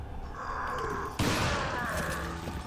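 Gunfire in Resident Evil 4 Remastered, with a steady rumbling scene of game noise before a sharp, loud burst of shots kicks in partway and continues as rapid, echoing fire.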